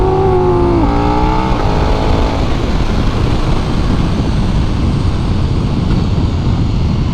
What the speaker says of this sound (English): some rear brake for this tight U-turn, and then rolling the throttle out of it.